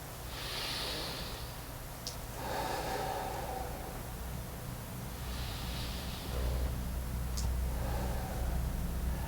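Deep breathing during a Pilates routine: slow, audible inhales and exhales through the nose and mouth, close and soft, in a quiet room with no talk.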